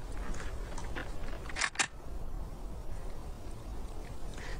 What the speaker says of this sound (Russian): Затвор.